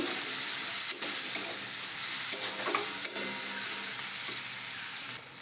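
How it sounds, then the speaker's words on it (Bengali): Chopped onion, slit green chilli and garlic fry in hot oil with a steady, loud hiss, broken by occasional clicks and scrapes of a spatula stirring them in the pan. "এর মধ্যে দিয়ে দেবো পেঁয়াজ কুচি আর দেবো একটু চেরা কাঁচা লঙ্কা কুচি দিয়ে একসঙ্গে একটু ভালো করে মিশিয়ে নেব"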